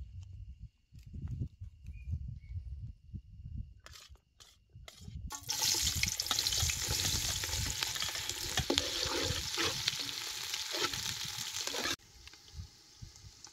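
Chopped onion hits hot oil in a pan for a mutton rassa, bursting into a loud, steady hiss of frying about midway that holds for several seconds before cutting off, after quieter low rumbling and a few sharp knocks.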